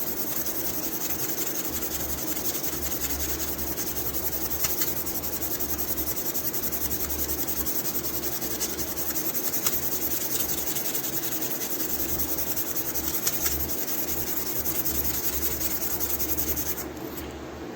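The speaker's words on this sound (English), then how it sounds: "You don't want to press hard because those scratches can get deep. But the more you go up and down, you're spreading the scratches" A scratched surface is sanded by hand in steady back-and-forth strokes, making a continuous close rasping rub that runs the whole time with no talking.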